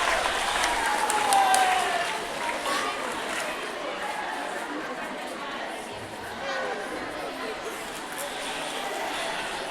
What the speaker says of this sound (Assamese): আৰু এটা হাত চাপৰি।